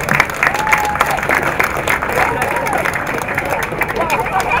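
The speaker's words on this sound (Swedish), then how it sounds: "en applåd för Peter Svärd!" Audience applause for Peter Svärd at a Swedish sports club visit in Åtvidaberg: dense, steady clapping from a crowd, with some murmuring voices mixed in, sustained throughout.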